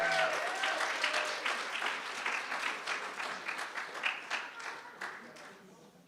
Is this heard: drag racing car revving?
no